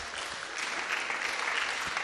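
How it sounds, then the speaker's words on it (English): Audience applause at a national conference as a professor is welcomed, a dense, even wash of clapping heard from within the hall, steady and unbroken. "A round of applause for Professor."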